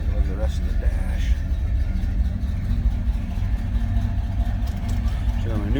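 Idling 1964 Chevrolet Impala SS in neutral, four-speed car, holding a steady deep low rumble close by, with brief voice sounds around it.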